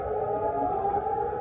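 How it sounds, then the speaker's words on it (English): An air raid siren wails steadily in Jordan, a sustained droning tone that sounds somewhat distant and fills the whole moment without pause. "Air raid sirens echoing here in Jordan."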